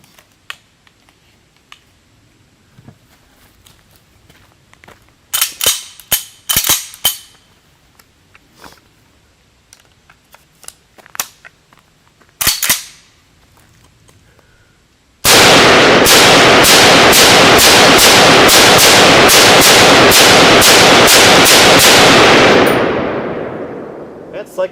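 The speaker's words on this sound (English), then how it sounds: "we're going to put a few rounds down range" A CSA vz. 58 rifle fires rounds downrange in a rapid, loud string of sharp shots lasting several seconds, preceded by a few scattered single reports and clanks against quiet outdoor background.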